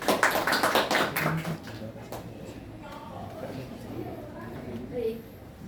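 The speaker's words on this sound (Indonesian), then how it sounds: "Oke, beri tepuk tangan untuk semuanya." A group of people clapping their hands together at a group counselling session, a dense burst of applause in the first couple of seconds that quickly thins out, followed by faint talk and room noise.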